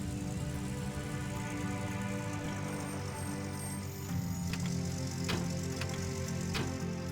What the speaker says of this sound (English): So we'll just park the truck right here.